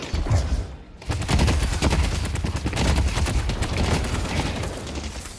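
A dense burst of staged gunfire rings out during a Hamilton duel number, loud rapid shots crackling continuously after a brief pause.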